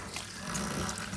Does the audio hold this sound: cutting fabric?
no